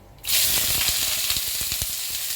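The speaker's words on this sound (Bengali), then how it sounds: "এবার দিয়ে দেবো এর মধ্যে পেঁয়াজ কুচোনো" Chopped onions hit hot oil with a sudden loud sizzle that starts abruptly and carries on as a steady bright hiss, broken by soft crackles and pops, with no voices.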